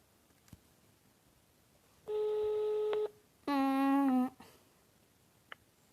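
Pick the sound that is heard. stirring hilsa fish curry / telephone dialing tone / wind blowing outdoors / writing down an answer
telephone dialing tone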